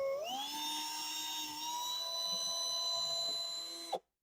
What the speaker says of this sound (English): I'm using a masonry drill because I have tile behind me